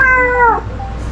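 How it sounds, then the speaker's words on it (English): Recorded cat meow played back inside a cabin to scare off a pack rat, a single loud, close, falling meow lasting about half a second, then quiet. "All right, he's making a meow."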